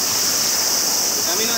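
Steady, loud rush of flowing water in a Japanese summer setting, a broad continuous wash with a bright hiss from high-pitched insects layered over it, unbroken for the whole stretch with no voices.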